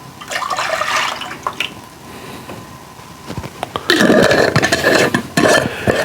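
Half and half pours into a pan as loud, close liquid splashing and gurgling, easing off in the middle before a heavier pour starts again.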